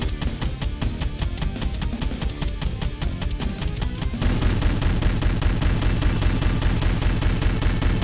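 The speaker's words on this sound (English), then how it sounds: "What am I shooting? I'm shooting the cannon." In a retro shmup video game, cannon fire comes as rapid, relentless repeated blasts, dense and loud throughout and growing heavier halfway through, with no talk.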